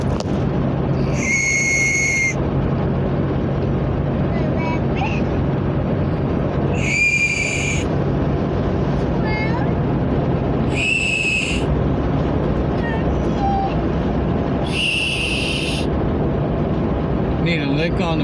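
A whistle blown in four short, shrill blasts spaced several seconds apart, rising above a steady rumbling background, with no speech.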